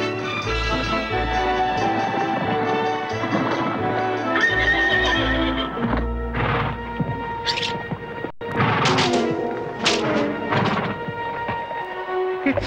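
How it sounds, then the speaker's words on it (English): Horses gallop with steady clip-clopping hooves through a dark wood and neigh and whinny loudly several times, their calls rising over the running hoofbeats and a continuous musical score. "And so, Renee and Gerard rode the dark wood, armed with crossbow and sword"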